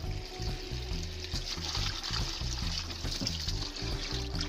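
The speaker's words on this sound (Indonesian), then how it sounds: "kita lanjut cuci dulu embernya yang tadi itu kan masih bau air asin." Water pours and splashes while a bucket that held saltwater from a marine aquarium is rinsed, a close, continuous trickling and sloshing with irregular splashy pulses.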